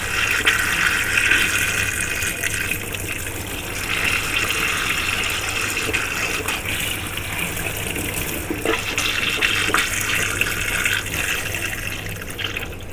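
Water running from a tap to rinse a diffuser, a steady close hissing splash that continues without pause.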